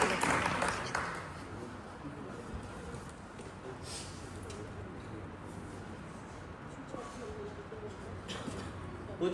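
An audience at a retirement event at a boys' school claps to welcome a woman, producing a steady wash of applause from start to finish with some voices mixed in.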